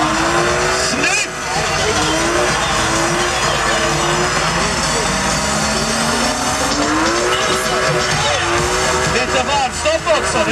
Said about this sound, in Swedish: Lite varvstopp också, det tycker vi om.